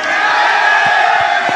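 Stadium crowd at Alfredo Leão roaring as CSA win the Copa Alagoas final against Penedense, a loud, dense, sustained wash of cheering and shouting from many fans.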